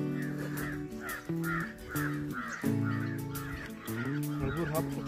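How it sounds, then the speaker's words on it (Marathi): Crows caw near Koyna Lake at Ambavade, with a run of repeated harsh calls in a steady rhythm, fairly close and clear over a constant outdoor background. "हा पक्षी कोणता होता पाहिजे? कावळा असतो तो."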